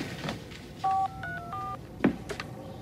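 A phone being dialed plays a quick run of short electronic keypad tones, several beeps in a row, heard faintly under background room sound.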